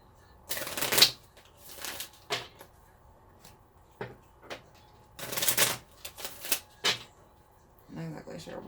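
Tarot cards are shuffled in repeated crisp riffling bursts, each lasting about half a second to a second, with quiet gaps between them. The sound is close and clear.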